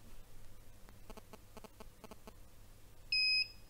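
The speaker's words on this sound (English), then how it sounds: "if we push the menu button you'll hear it beep" A short, sharp electronic beep from a Turnigy 9X radio transmitter rings out near the end as the menu button is pressed, preceded by faint clicking and ticking against a quiet background.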